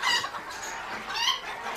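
A hen clucks softly inside a breeding cage, quiet scattered clucks against a faint, hissy background with no talking.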